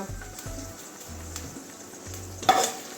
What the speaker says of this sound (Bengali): একটু ভেন্ডিটা ভেজে নেব কাঁচা গন্ধ যাওয়া পর্যন্ত